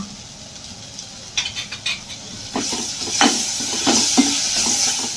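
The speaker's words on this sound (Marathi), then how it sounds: "त्यामध्ये आपण एक चमचा अजून तूप घालून घेऊ त्यामध्ये आलं लसूण आणि कोथिंबीरची एक चमचा पेस्ट घालू" Ginger, garlic and coriander paste sizzles in hot ghee in a pan, with a steady hiss broken by a few sharp spattering pops and scraping stirs, close and moderately loud.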